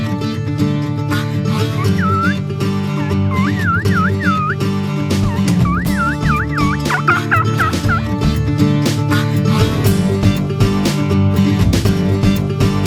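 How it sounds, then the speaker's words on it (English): Wild turkey toms gobble in repeated rattling bursts during a spring turkey hunt near decoys, with steady background music playing throughout. "right away 2 of the toms came just running at the decoys"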